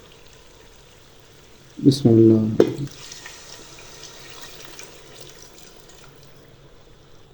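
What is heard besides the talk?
water poured into frying masala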